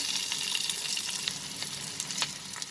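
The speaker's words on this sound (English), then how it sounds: "saute it till the onions become slightly translucent." Onions sauté in a pan for a prawn and potato curry, a steady bright sizzle filling the clip with faint stirring scrapes, close and continuous with no voices.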